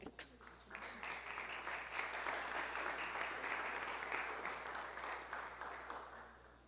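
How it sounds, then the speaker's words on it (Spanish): Soft, distant audience applause at a Costa Rica conversation forum on migration, a steady wash of clapping that swells and then tapers off. "los vamos a recibir con un fuerte aplauso"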